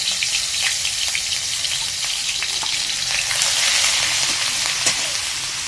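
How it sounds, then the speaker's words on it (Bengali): Onion paste frying in hot oil with cinnamon, cardamom and cloves for a chicken kofta korma gives a loud, continuous close-up sizzle with crackling spatter and occasional stirring, no voices. "পেঁয়াজটা হালকা ভাজা হয়ে গেছে"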